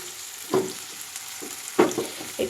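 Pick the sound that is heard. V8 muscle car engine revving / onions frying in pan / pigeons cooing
onions frying in pan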